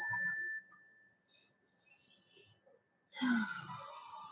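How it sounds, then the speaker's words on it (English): A small fairy bell is struck once. Its thin, high ring sustains faintly and fades in a quiet room, followed by soft breathy sounds. "this is my fairy bell"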